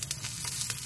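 Fish fillet frying skin side down in a hot pan, a steady close crackling sizzle with brief brighter spits over the short span.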